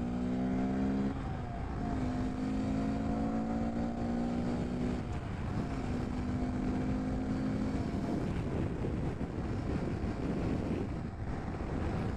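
A Honda Grom motorcycle pulls into traffic and accelerates, its engine note climbing in steps through gear changes before fading into steady wind rush and road noise.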